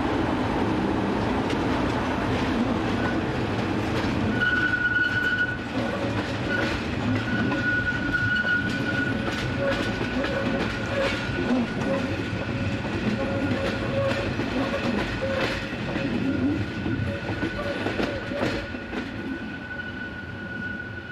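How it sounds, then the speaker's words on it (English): A Swiss train arrives from Göschenen in 2004, heard from above the town: a steady rumble of wheels and carriages with clattering and faint wheel squeals, sustained and moderately distant, with no talking. "Finally, another superb view from above the town as a train arrives from Göschenen."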